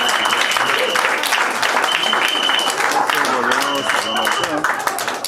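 A congregation at a Christian gathering applauds in acclamation, a dense wash of clapping mixed with raised voices and cheering, loud and close throughout.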